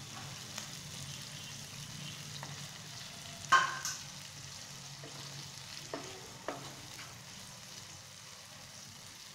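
Tomato sautés in a pan for egg kothu parotta, a faint continuous sizzle with a few soft clinks and scrapes of stirring, quiet and close, with no one talking.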